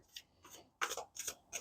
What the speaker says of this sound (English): get some cards shuffled up here